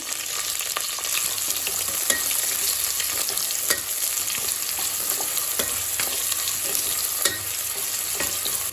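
Two onions fry with cinnamon, fennel seeds and curry leaves in a pressure cooker for samba rava kichadi, a steady close crackling sizzle broken by occasional scraping clicks of stirring.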